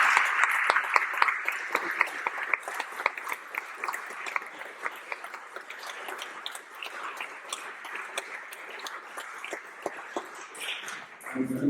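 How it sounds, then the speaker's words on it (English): A group applauds a colleague at a school staff training day, with steady scattered hand claps and a few sharper taps running throughout, moderately close and unaccompanied by talk. "A big round of applause for Tara."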